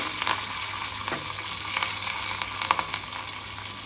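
Curry leaves sizzle steadily in hot oil for a Karnataka-style chili dish, a dense bright crackle with small pops throughout and no voices.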